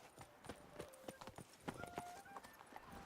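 Roach the horse gallops in The Witcher 3, a fast rhythmic clip-clop of hooves at close range with a brief whinny, over game music and ambience.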